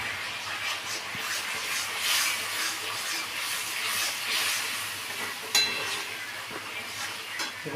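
Mutton sautéing with boiled peas in a pan, a steady close sizzle and hiss with soft stirring scrapes, no talking.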